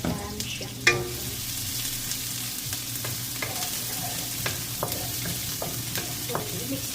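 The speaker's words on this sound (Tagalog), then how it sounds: "So, painitin natin yung mantika. So, ilagay natin sibuyas." Onion frying in hot oil in a pan, an even close sizzle with light scrapes and taps of a stirring utensil and one sharper clack early on, no speech.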